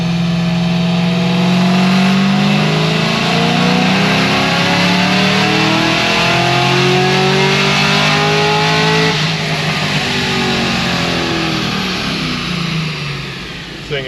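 A Cadillac CTS-V2 V8 revs hard on a dyno, a loud, steady engine roar climbing in pitch through a full pull for over ten seconds, then easing off at the end.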